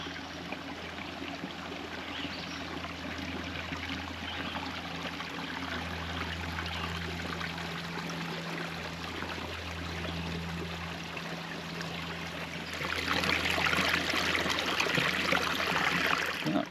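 A small creek runs beside a hiking trail, a steady, soft trickle and rush of water with a low hum underneath, growing a little brighter and louder toward the end.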